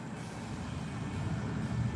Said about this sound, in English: There's the engine sound.